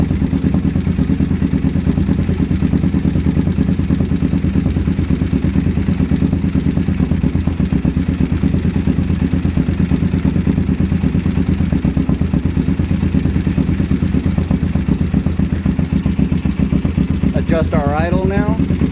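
A motorcycle engine idles steadily throughout while its carburetors are being balanced, a close, continuous mid-pitched rumble with a light mechanical clatter, and a brief higher whine rises near the end.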